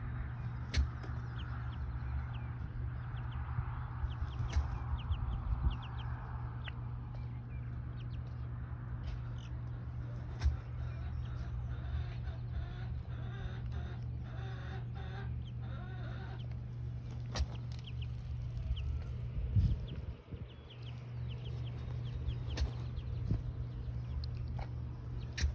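Chickens cluck softly around a protective rooster with his chicks, with faint scattered calls and a low steady background hum outdoors, the birds sounding somewhat distant and quiet.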